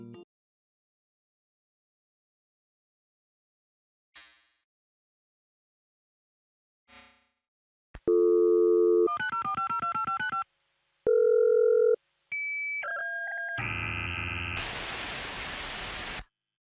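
Retro dial-up modem handshake from the game Last Call BBS: a few faint clicks, then loud dial tones and beeping tone pairs, ending in a burst of harsh hissing static, with no voices.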